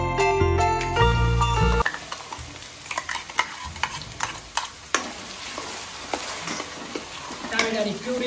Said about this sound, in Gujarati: ટામેટાની પ્યુરી નાખી દીધી છે અને મિક્સ થઈ રહી છે.